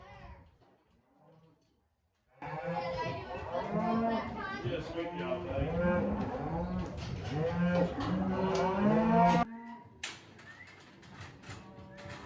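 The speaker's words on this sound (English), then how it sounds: "There's another cow back there." Cattle in a barn during vaccinating and silage feeding chores, several cows mooing loudly and continuously in long overlapping calls, with a few quieter sounds before and after.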